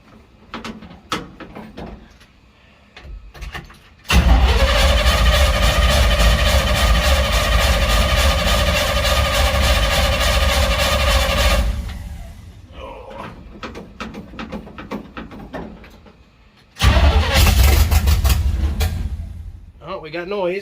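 A 1972 GMC truck engine cranks and roars to life, running loud and steady for several seconds before dropping back, then firing up loudly again near the end, with speech and shop clatter in the quieter gaps.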